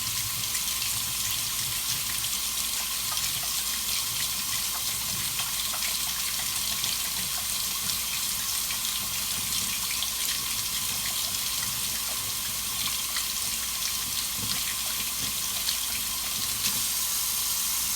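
A kitchen tap runs steadily while hands are washed under it, a continuous hiss of flowing water with faint splashing, close and even throughout, with no talking.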